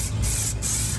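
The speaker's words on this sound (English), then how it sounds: "See, you better cut it off before I keep spraying." Aerosol spray can hissing steadily as it coats a chair during a backyard DIY waterproofing job, a loud continuous spray with two brief pauses between bursts.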